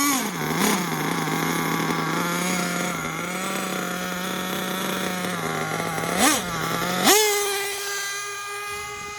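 A nitro Losi truggy RC car engine runs at a steady high idle with a buzzing drone, blips up twice, then jumps to a higher pitched, louder rev, close and alone.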